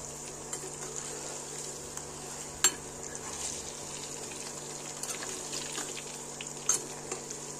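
Chicken pakoda frying in hot oil, a faint steady sizzle and bubbling with occasional stirring clinks, quiet and continuous without voices.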